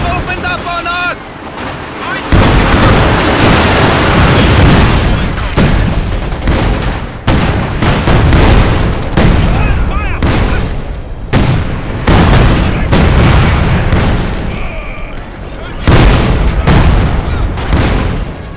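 Dense gunfire and heavy explosions from a Company of Heroes 2 battle roar loudly and almost continuously, with booming blasts, rattling shots and brief dips between volleys.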